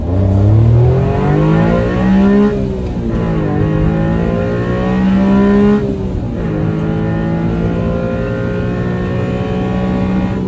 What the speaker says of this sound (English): I'll be doing 45, but I'll be ripping through gears and you're going to hear how good it sounds